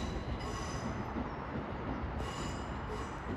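A Class 375 electric multiple unit at Ashford International station, running empty stock, gives a steady, loud rumble of wheels and traction with faint high squeals, continuous throughout with no talk.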